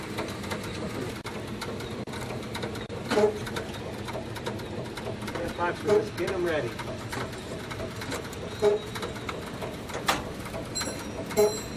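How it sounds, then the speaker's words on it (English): High-pressure oxygen being pumped aboard a space station gives a steady mechanical hum with scattered clicks and chirps throughout, while someone speaks briefly over it. "High pressure oxygen being pumped."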